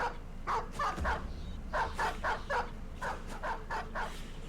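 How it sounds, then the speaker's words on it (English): Several war dogs bark in the Battle Brothers game, a loud run of repeated barks and yips in an irregular rhythm, close and clear over a low background rumble. "That is 5 war dogs."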